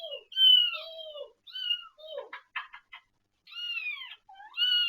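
A pet cat named Crow meows insistently, a string of drawn-out, wavering calls with a short burst of chattering chirps in the middle, close and clear in a quiet room.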